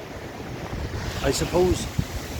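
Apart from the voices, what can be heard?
ocean waves breaking on shore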